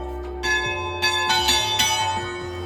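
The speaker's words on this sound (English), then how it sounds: "rang the bells for good luck that echoed in the valley below" Chapel bells at the Chapel of St. Nikolai on a Slovenian hillside ring out in several close, loud strikes, their bright sustained tones overlapping and echoing toward the valley below.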